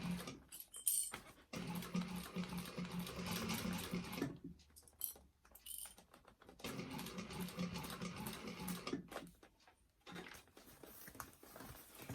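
An industrial walking-foot sewing machine top stitches vinyl in bursts, a faint rapid mechanical chatter that runs for a few seconds, pauses, then resumes.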